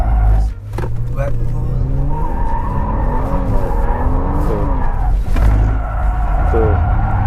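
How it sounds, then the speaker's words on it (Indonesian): A powerful Hyundai car drifts on a wet handling test track in Korea, its tires squealing in rising and falling wails over a steady engine roar, loud and close, while someone talks over it. "Karena powernya gede banget, jadi dia bisa tetap bisa diajak ngedrift tuh."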